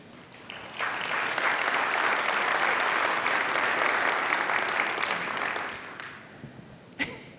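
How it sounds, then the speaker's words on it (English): Applause for a speaker in a full conference room, swelling in quickly, holding steady and loud for several seconds, then fading to a few scattered claps. "Let's give her a big round of applause, everybody."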